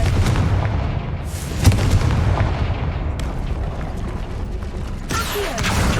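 Confringo fire spell blast in Hogwarts Legacy, a loud near boom with a rumbling tail over steady game noise, then a sharp crack near the end.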